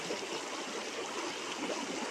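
River water in Theni district flows steadily nearby, a constant broadband rush and trickle with no breaks and no voices.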